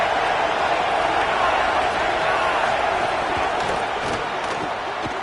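A college football stadium crowd at a Florida versus SMU game roaring loudly and steadily, a dense, sustained wall of cheering and noise with no break.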